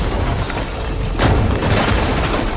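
An explosion in the video game Horizon Forbidden West: a sudden boom bursts out of a dense, roaring wash of game noise and rumble, then fades back into the continuing din.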